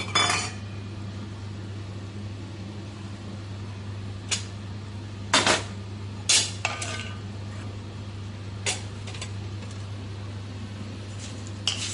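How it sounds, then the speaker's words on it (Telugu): Coriander seeds dry-roasting in a pan with a spoon, a few sharp metallic clinks and scrapes spaced apart over a steady fan-like hum, with no talking. "ధనియాలు వేస్తున్నాను, ఒక 2 స్పూన్లన్నీ."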